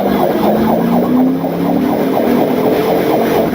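Police car sirens during a highway chase, a loud, close wail sweeping up and down over heavy engine and road roar, steady throughout with no talking.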